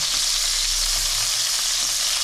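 Crab pieces shallow frying in oil for a Bengali crab curry, giving a steady, close hiss of sizzling that stays even and loud from start to end with no voices.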